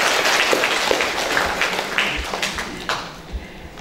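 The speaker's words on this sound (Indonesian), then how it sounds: "Kita berikan tepuk tangan untuk kita semua." An audience applauds at an inauguration ceremony for new branches in Papua, with a crowd of hands clapping steadily and individual claps standing out as the applause gradually thins.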